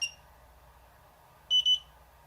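A FIMI X8 SE drone control app gives a short electronic shutter beep as a photo is taken, a quick double chirp that is clear and close against a quiet, low hum, with no talking.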